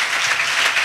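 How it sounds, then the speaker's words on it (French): A church congregation at a salvation and healing weekend in Bingerville claps together, a brief, dense and steady burst of many hands. "Let us clap together."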